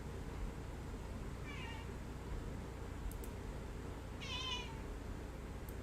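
A pet cat meows twice, two short mid-pitched calls a few seconds apart, clearly audible over a steady low room hum with no talking.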